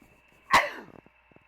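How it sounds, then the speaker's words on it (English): A single sharp sneeze close to the mic, with the mouth covered, bursting out and then trailing off into soft breathy noise. "sorry if I sneezed in your ears, but I did cover up the mic"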